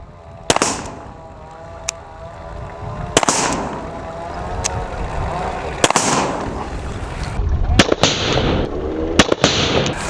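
HDR 50 self-defence pistol firing nylon balls outdoors: several sharp, loud pops spread across the stretch, each with a brief echo, over steady wind noise and some speech.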